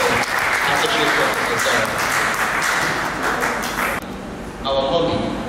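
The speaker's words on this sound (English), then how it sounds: "Please can we give her a round of applause once again for" Audience applause for a colleague at a university International Women's Day celebration, dense steady clapping for about four seconds before fading into a voice speaking.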